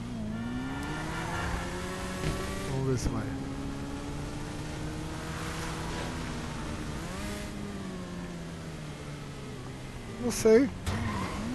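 A motorcycle engine in GTA V drones and revs steadily with shifting pitch, a car-like whine with a brief burst of extra noise near the end, while a person talks over it.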